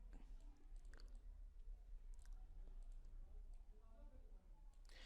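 A computer mouse clicks a few times while the Photoshop CS6 clone stamp tool removes a wire from a photo. The clicks are faint, brief and scattered, over a low background hum.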